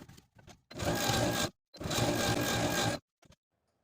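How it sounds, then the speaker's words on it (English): A sewing machine with a twin needle sews T-shirt hems in two steady bursts of rapid stitching, whirring loudly close by, separated by a short pause and a few clicks. "using my sewing machine and a twin needle, I'm going to sew those hems in place."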